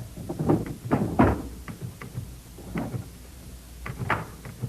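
A desk drawer in a ranger tower station slides and bumps shut in a few distinct wooden thunks and scrapes, close and fairly loud.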